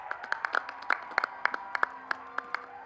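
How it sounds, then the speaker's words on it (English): Applause for an award winner at a ceremony, a small scattering of sharp individual claps at an uneven pace, fairly close and modest rather than a full crowd. "Round of applause,"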